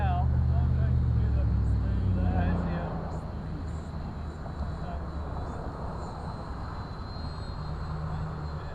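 An RC airplane passes overhead at an outdoor flying field, its engine drone loud at first and then fading to a steady, softer hum over distant background noise.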